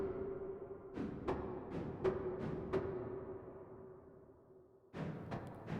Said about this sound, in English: That's the sound of me pulling the stop in and out.